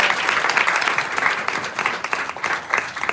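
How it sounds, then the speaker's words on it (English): Audience at a dress-presentation event breaks into sustained, dense applause, a steady wash of many hands clapping for a few seconds with no one speaking over it. "we have a big applause for Mother Prema Mayi is in her 80s."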